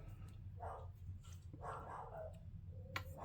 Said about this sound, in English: You can hear Mira, my little puppy.